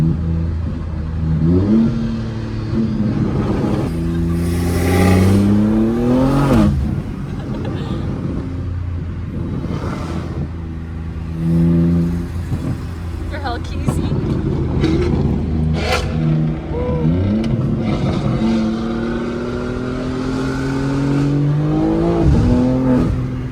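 A Dodge Hellcat Redeye engine revs hard on a street: repeated rising and falling throttle blips, loud and close, with people talking over the exhaust between pulls.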